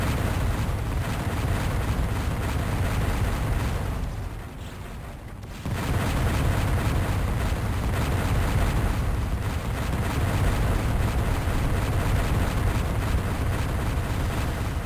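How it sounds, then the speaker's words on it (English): A boss mine blows up in the video game Descent, a sustained roaring explosion that fills the whole stretch with dense crackling rumble, dipping briefly before surging back just as loud. "When my invulnerability power-up is just running out, with a homing missile on my tail, I exit the mine and watch the fireworks."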